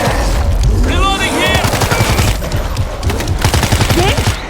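Rapid gunfire rattles in the video game World War Z Aftermath, with dense, loud bursts of automatic fire and booms packed close together throughout, and a voice briefly audible beneath.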